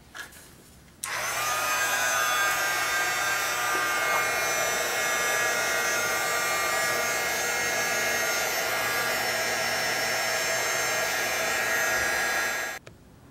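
A hair dryer switches on and blows over wet paint with a steady, loud whooshing whine for about twelve seconds, then shuts off.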